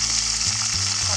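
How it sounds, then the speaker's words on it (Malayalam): Mustard and fenugreek seeds sizzle in hot coconut oil, a bright steady hiss heard up close. A low hum and faint clatter sit beneath the frying. "താളിക്കാൻ വേണ്ടി വെളിച്ചെണ്ണ ഒഴിച്ച് അതിലേക്ക് 1/2 ടീസ്പൂൺ കടുക്, 3/4 ടീസ്പൂൺ ഉലുവ ഇട്ടിട്ടുണ്ട്."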